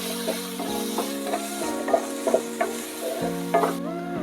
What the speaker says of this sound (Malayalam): 1/2 ടീസ്പൂൺ മഞ്ഞൾപ്പൊടി ഇട്ട് നമുക്ക് നന്നായിട്ട് ഇളക്കി കൊടുക്കാം.